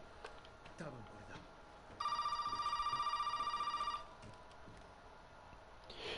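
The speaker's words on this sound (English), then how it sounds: "I think you have to take this phone call for the game to progress" In Resident Evil 7, a telephone gives a loud electronic ring lasting about two seconds over low background noise and faint talk.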